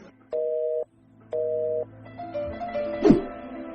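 A telephone disconnect tone after a call ends: two steady, evenly spaced beeps, each about half a second long, followed by a faint tonal hum and a brief clatter near the end.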